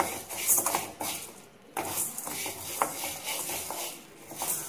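Urad dal dry-roasting in a pan is stirred with a spoon, producing soft repeated scraping and rustling with occasional metallic clinks against the pan, fairly close and steady.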